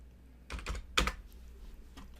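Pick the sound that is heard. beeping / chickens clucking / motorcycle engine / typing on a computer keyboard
typing on a computer keyboard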